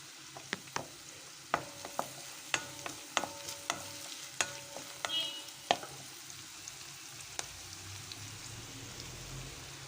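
Curry leaves and chili dropped into hot oil for a restaurant-style dal khichdi, giving sharp crackling pops and spits in an irregular burst over the first six seconds, then a quieter low simmer; no talking.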